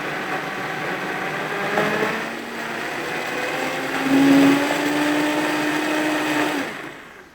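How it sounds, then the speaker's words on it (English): A blender whirs loudly and steadily through warm soup ingredients, its motor note rising briefly midway as the load shifts, then winding down at the end. "Keep your hand on top for extra precaution, and then we're just going to give that a blend here."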